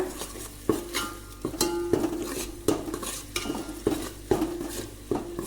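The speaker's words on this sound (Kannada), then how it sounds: "ಇದನ್ನೆಲ್ಲ ಹಾಕಿ ಒಂದು ಮಿಕ್ಸ್ ಕೊಡಬೇಕು ಫ್ರೆಂಡ್ಸ್ ಈ ಥರ" A spoon stirs garlic-ginger paste and coriander in a pot while fish sambar is being made. The scrapes and clinks come in a steady rhythm of about one stroke every second, close and moderately loud, with a faint sizzle underneath and no voices.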